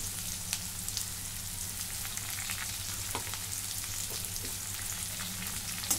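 Sliced bitter gourd sautéing in a pan with green chillies and salt gives a steady, soft, even sizzle, with faint scrapes and pops scattered through it and no voices.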